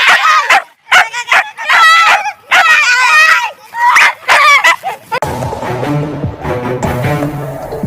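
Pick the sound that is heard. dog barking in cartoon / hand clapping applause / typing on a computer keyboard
dog barking in cartoon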